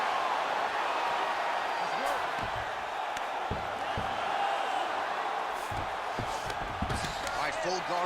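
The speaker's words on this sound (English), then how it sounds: "huge pop from the crowd as she gets..." Steady crowd roar at a live women's MMA fight, Harrison vs Tate, filling the whole stretch at a constant loud level with a few sharp thuds and whoops rising out of it.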